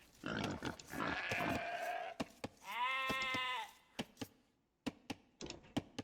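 Sheep bleat in a video game, a loud wavering bleat in the middle among several shorter calls, with sharp taps and clicks of game sounds scattered around them.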